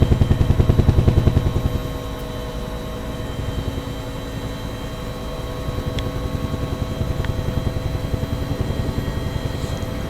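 Nimbus Huey UH-1 helicopter in the X-Plane 11 flight simulator, a loud steady rotor thump with rapid, even blade beats over a constant engine whine, throbbing strongest at first and then holding level.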